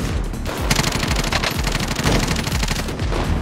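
Rapid bursts of automatic GROZA rifle fire in a video game, loud and close, a dense stream of shots with a couple of short pauses between strings.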